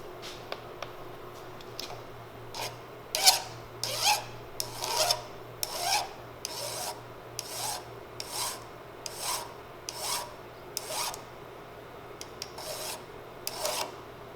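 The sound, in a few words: filing metal with a file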